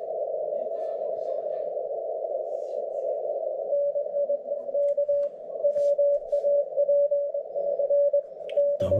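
Fast Morse code from a 7 MHz amateur radio contest station at night, heard as a steady sidetone tone keyed in rapid dits and dahs, continuous and fairly loud throughout.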